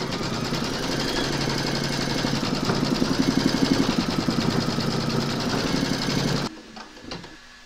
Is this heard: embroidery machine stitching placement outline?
yes